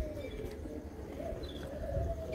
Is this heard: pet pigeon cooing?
yes